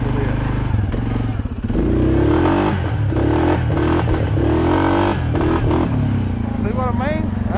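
A Suzuki KingQuad 750 ATV engine revving at about half throttle, loud and close, its pitch rising and falling as it is held up, with someone talking over it.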